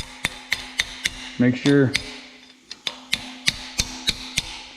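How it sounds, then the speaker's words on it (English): Sharp metallic hammer taps on bolts during a truck build, struck one at a time in a steady rhythm of about a dozen close, ringing hits, with a short spoken phrase partway through. "Now what I like to do is just tap them with a hammer."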